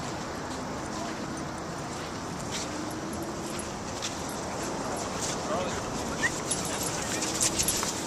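Dogs whimper and yip in short bursts against a busy, noisy background, with people's voices mixed in.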